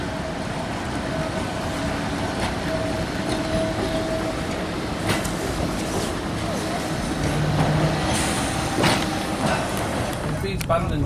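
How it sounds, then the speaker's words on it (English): A Blackpool tram rumbles past steadily, with a continuous low rolling drone and occasional metallic squeals and clanks, fairly loud and close. "This is tram A today."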